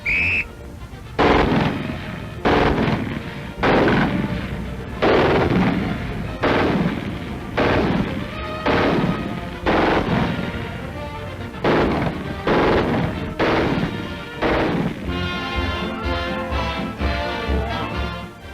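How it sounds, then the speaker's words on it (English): Naval guns crewed by WAVES in wartime training fire one after another on command, about a dozen loud booming shots each second or so, echoing heavily, with a rattling burst of rapid fire near the end. "Load and lock. Safety's off. Commence firing."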